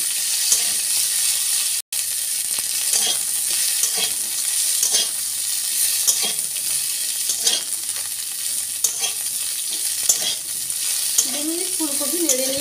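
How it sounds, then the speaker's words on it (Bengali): Cauliflower florets frying in a pan with popping mustard seeds, a spatula stirring through them with a steady, close sizzle that runs unbroken, scraping clatters breaking in now and then. "এবার ফুলকপি একটু নেড়ে নেব।"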